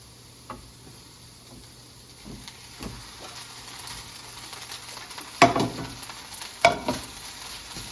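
Three cups of cooked white rice are stirred into onion in a hot pan, a low, quiet sizzle broken by occasional sharp scrapes and clatters of the spatula, louder near the end.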